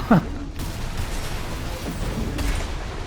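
Rapid bursts of shotgun fire in a video game, several loud percussive blasts over a continuous noisy battle din, with no talking.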